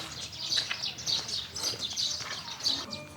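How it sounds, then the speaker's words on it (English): Birds chirp and tweet at a Baekje historic site in Korea, a steady scatter of small high calls from several birds at moderate distance, continuing through the whole stretch with faint background noise and no clear talk. "Listen to these birds."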